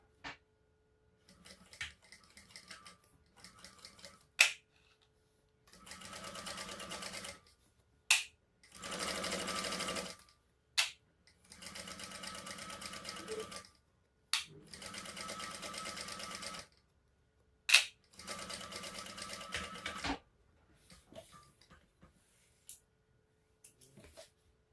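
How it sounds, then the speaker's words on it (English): Sewing machine stitching a seam on a petite shoulder bag, running in several bursts of steady whirring separated by quiet pauses and small clicks, close and alone. "we're going to stitch across here at the seam allowance in the pattern, and then we'll flip it and top stitch."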